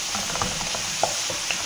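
Onions and spices sautéing with yogurt in a pan for mutton korma, a steady close sizzle broken by a few soft scrapes of stirring.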